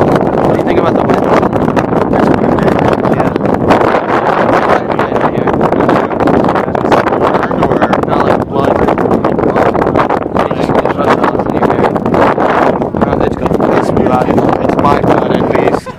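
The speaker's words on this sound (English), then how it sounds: "How do you like the sound of the wind?" Wind roaring into the microphone aboard a cruise boat on Lake Ashi, Japan, a loud, constant buffeting rush that fills the whole stretch without letup.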